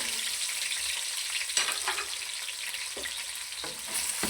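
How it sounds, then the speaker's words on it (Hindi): Chicken frying in ghee with lightly fried onions in a dhaba-style handi, a steady hissing sizzle with a few scraping stirs of a spoon, close and moderate, with no talk. "इसी घी के अंदर हमने जिसमें प्याज फ्राई किया हुआ हल्का सा, उसी में चिकन को हमने फ्राई कर लेना।"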